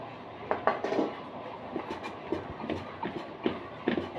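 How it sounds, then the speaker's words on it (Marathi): Hot cooked chana dal being mashed with a metal tumbler, giving soft repeated thuds and light metallic clinks in an uneven rhythm, close and moderately loud, with no talking. "इथं मी फुलपात्र घेतलं आहे, त्याच्या साह्याने डाळ बारीक करते"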